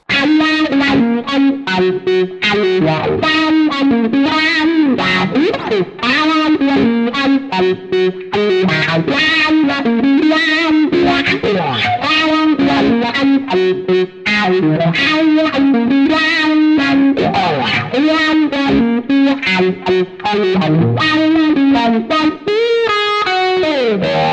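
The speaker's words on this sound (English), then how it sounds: "let me play through this part with the use of wah pedal, so you can hear how it sounds" Distorted electric guitar run through a wah pedal, its tone sweeping up and down as a continuous riff plays, loud and up front.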